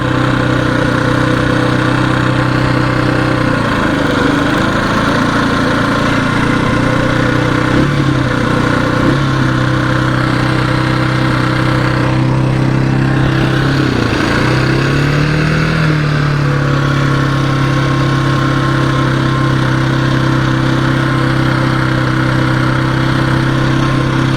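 A 1981 Yamaha XT250 single-cylinder motorcycle ridden through Dublin streets, a loud continuous engine drone from the rider's position with a few rev rises and gear changes, and wind rush throughout.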